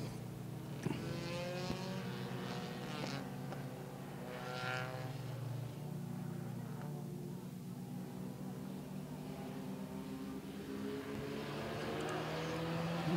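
Compact race cars cruise past on the oval at Baer Field Motorsports Park during a Memorial Day weekend event, several engines droning and shifting pitch as they pass, with an announcer talking over them.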